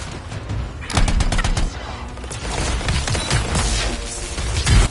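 Automatic turret gunfire in the video game Anthem, rapid bursts of shots loud and close, continuing in repeated volleys across the whole stretch over steady background game noise.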